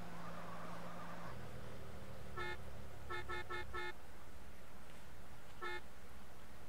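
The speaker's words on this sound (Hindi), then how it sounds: "आजा भाई तेरे लिए हॉर्न मार रहा हूँ" A car horn in GTA San Andreas gives one short toot, then a quick burst of four rapid honks, then a single last beep, over a low idling engine rumble that drops away partway through.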